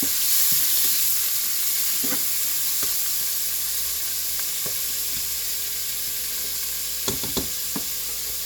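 Mushrooms and onions sizzle steadily in a hot pan with garlic for a Jollibee-style burger steak, with a few soft stirring clinks and scrapes near the end; no one speaks.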